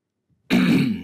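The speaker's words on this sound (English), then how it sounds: "So what I do is I clear my throat and I get ready." A single person clears their throat once, sharply and up close, after a moment of silence, the rasp trailing off quickly.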